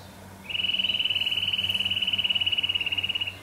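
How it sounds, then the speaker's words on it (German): A Eurasian nuthatch scolds in a long, fast, evenly pulsed run of sharp notes, fairly loud and close, on a spring riverside walk along the Hase near Meppen with cattle nearby. "Im Hintergrund hört man einen Kleiber schimpfen, dass ich da herumlaufe."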